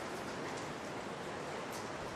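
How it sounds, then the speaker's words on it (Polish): Steady rain in Kraków near St. Mary's Basilica hisses as a constant broadband wash, with droplets pattering on surfaces nearby and no other sounds standing out. "Niestety pada"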